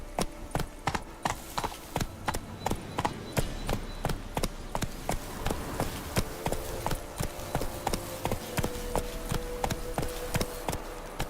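Hooves of Roach, the horse in The Witcher 3 video game, pound out a steady, driving gallop rhythm, loud and close throughout, with no talking over the continuous clip-clop.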